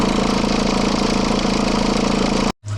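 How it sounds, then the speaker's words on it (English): A VW Passat 1.9 PD diesel engine runs with its belt flapping from a faulty alternator pulley, a loud, steady, close clattering drone with a fast rhythmic beat, cut off abruptly near the end. "we've got an alternator run-on pulley and it's causing the belt to flap a little bit like this"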